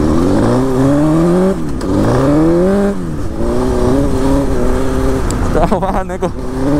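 A Suzuki GSX-R 1000 sport motorcycle engine under way, loud and close, its pitch climbing and dropping through repeated gear changes with a steady rushing wind noise.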